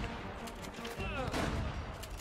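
Gunfire aimed at the player in Uncharted: Drake's Fortune, a quick burst of game shots layered over a constant loud background of music and effects, with a voice briefly heard.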